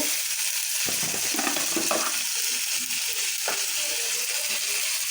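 Onion fries in hot oil with ginger and garlic paste, a steady close sizzle broken by scraping stirs and light clinks of the spoon in the pan.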